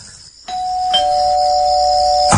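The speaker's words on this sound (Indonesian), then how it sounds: "aku dikejutkan dengan bunyi bel yang berbunyi" A doorbell rings in a house, one clear sustained electronic chime tone that holds steadily for about two seconds before cutting off, close and loud with no talk.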